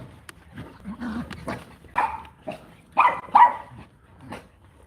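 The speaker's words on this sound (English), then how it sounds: "I don't know what it is with these dogs. They just want to bark." Several dogs bark in short, loud bursts, with a couple of sharper yaps near the end, nearby and clear in an otherwise quiet room.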